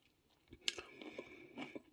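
Close, quiet chewing of a crunchy cheese snack with a rice-cracker texture, with a couple of sharp crisp bites standing out.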